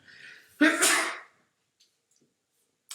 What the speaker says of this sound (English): Usually when I sneeze once, I sneeze 20 other times.